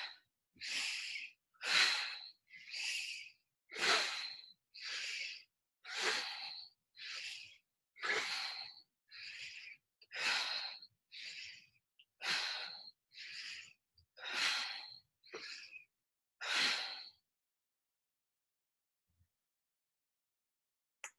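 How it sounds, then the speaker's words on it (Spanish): Someone does breath of fire (bhastrika) breathing from Kundalini yoga: about fifteen forceful, rhythmic nasal breaths, close and evenly spaced, then silence, with no talking. "busquen respiración de fuego, el arte de vivir, o bástrica en las técnicas de Kundalini Yoga y verán qué es"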